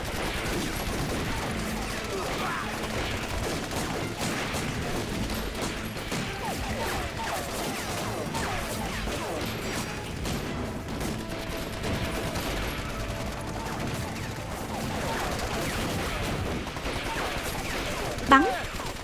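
Gunfire in a night ambush scene from an anti-Japanese war action film: a sustained fusillade of shots and crashes runs continuously under the battle mix at moderate loudness, with a sharper burst near the end.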